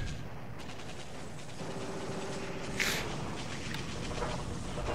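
Artillery bombardment in the World War II strategy game War in the Pacific, rendered as faint, distant rumbling booms with a sharper burst near the middle, heard alone without speech.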